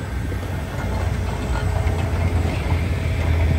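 A train headed by the SO-18 steam locomotive rumbles low and steady with a faint mechanical hum, heard at a moderate distance, growing slightly louder as it arrives at Saint Petersburg-Finlyandsky station.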